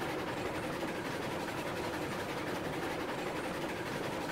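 A steam train runs along the tracks in the game Railroads Online, a steady broadband rumble and hiss with faint rhythmic clatter, continuous and alone without talk.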